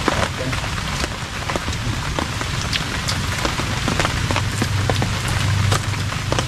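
Steady rain pours onto hard surfaces nearby, a dense, continuous patter with distinct drops ticking through the wash and no letup from start to finish.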